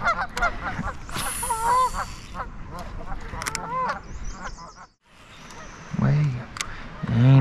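Several geese honk loudly and repeatedly, close by, with overlapping calls and someone talking in between.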